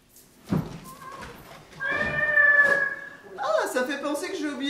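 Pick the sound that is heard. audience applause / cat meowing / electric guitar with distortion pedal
cat meowing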